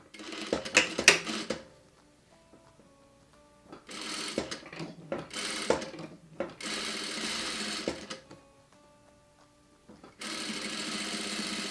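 A sewing machine stitching wide tape onto a corset bodice, quick rattling bursts of stitching separated by quiet pauses with light handling clicks, close and moderately loud.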